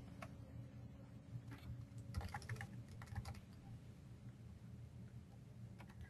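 Quick keystrokes on a computer keyboard as a password is entered into an account form, a soft irregular patter of taps with a brief denser burst midway, over a steady low room hum.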